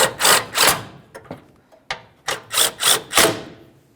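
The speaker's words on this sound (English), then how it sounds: "Start in all 4 of your 10mm headed mounting bolts and then snug them up." A ratchet wrench snugs up 10mm-headed radiator mounting bolts on a 2010-2013 Ford Transit Connect, giving close, rhythmic bursts of clicking ratchet strokes with short pauses and a few sharp taps between them.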